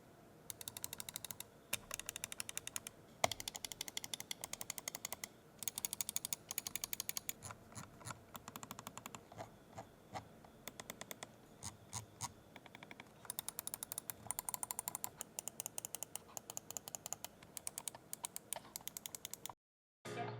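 Side buttons on a Razer DeathAdder V3 Pro wireless gaming mouse are clicked again and again, giving a dense run of crisp, close-up clicks for about twenty seconds with no talking.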